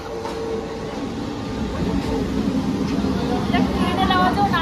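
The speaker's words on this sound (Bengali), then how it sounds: "ওই ট্রেন ট্রেন ট্রেন" A train passes nearby with a heavy, steadily building rumble and rattle of rail cars, while people talk over it.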